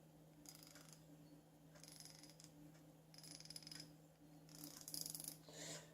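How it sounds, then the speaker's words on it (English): Fine-tooth Cobalt ratchet mechanism clicking in four short bursts of rapid, faint ticks, separated by brief pauses over a steady low hum. "This one has a real fine tooth mechanism."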